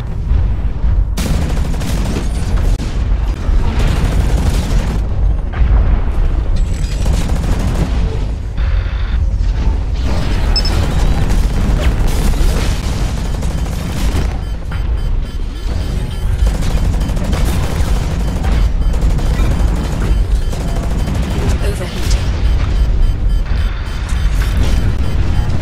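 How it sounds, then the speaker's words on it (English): Explosions and gunfire roar continuously in the mech combat game Hawken, a dense, loud barrage of blasts and shots with booming low rumble and no break throughout. "Did his explosion kill me?"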